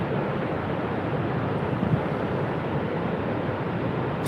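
Strong wind at Niagara Falls roars as a steady, dense, loud rush close to the microphone, with no breaks or voices.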